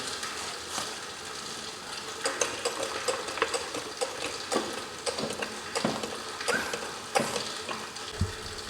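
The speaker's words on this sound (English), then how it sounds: "it's the gutter outside" Steady broadband rush of rainwater running in an outdoor gutter with scattered drips and splashes, continuous and moderately close, no voices.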